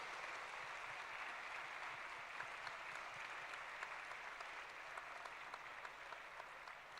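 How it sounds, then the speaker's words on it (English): A standing ovation from an audience at a research, innovation and design event, heard as dense, sustained applause of many hands, even and continuous throughout, somewhat distant and fairly quiet. "I would request everyone to give a standing ovation to Ashim Patil ji."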